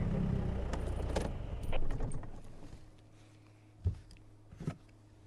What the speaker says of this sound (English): Now, Paul, I don't want to rev too loud because they've settled down right next to me